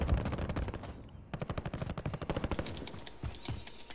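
Rapid automatic gunfire from Call of Duty: Warzone rattles in sustained bursts, a dense string of sharp shots that thins into a few single cracks near the end, fairly quiet and somewhat distant.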